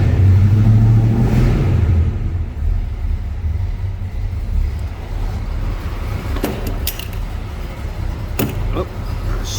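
Small block Chevy 400 V8 in a 1938 Pontiac Silver Streak street rod warms up, a steady low rumble with an early rev swell, plus a couple of sharp clicks and clunks later.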